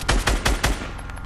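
Shotgun blasts from a video game, four quick heavy booms in steady succession, loud and close, followed by a lower rumbling tail with no talk.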